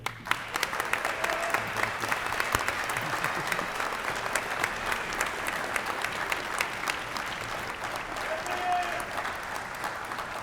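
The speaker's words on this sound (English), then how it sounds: "let's give another round of applause for our officials" Sustained applause from a large audience at a police department's 22nd annual awards ceremony: dense, even clapping that holds steady for about ten seconds, moderately loud and somewhat distant.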